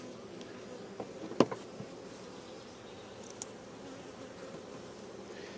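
Honeybees fan at an open hive during an inspection, a soft, continuous buzzing drone with a few bees darting past close by and a sharp knock partway through.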